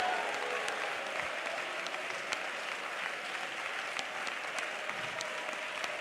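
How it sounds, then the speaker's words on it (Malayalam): A church congregation at a prayer centre claps their hands steadily in worship, a continuous wash of applause from many people at an even level. "കൈയടിച്ച് ദൈവത്തെ ആരാധിക്കേ"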